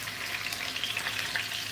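Fish sizzles steadily in hot palm oil, a dense crackling hiss with small pops throughout, close up and with no talking.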